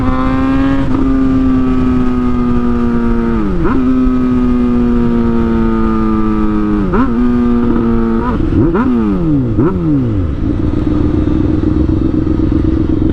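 A sport motorcycle with a GSX-S 750 or CBR 600 inline-four engine is heard up close while being ridden. It revs loudly through repeated rising pulls, each broken by a quick gear change and a drop in pitch. Nobody speaks.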